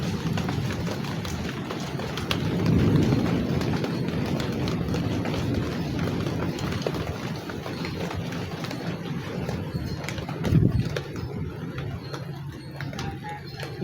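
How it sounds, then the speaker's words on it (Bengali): Heavy rain falls hard outdoors, a dense continuous patter and rush that stays loud throughout with a brief louder gust near the end. "খুব জোরে বৃষ্টি পড়তেছে।"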